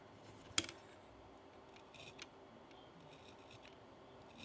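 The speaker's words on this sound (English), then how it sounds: "With a piece of masking tape now, I'm going to cut off just a very small square" Scissors snip a small square from masking tape with one sharp, close cut, followed by a few faint clicks and rustles in a quiet room.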